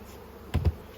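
Two short, close buzzing bursts of bees, one after the other, over a quiet background hiss.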